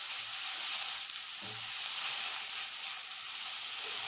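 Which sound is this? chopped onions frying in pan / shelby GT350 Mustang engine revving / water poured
chopped onions frying in pan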